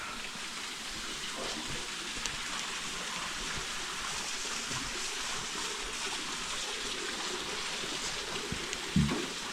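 Milky hot spring water flowing at a rustic historic bathhouse in Taiwan, a soft continuous rushing and trickling wash, faint and steady, with no talking over it.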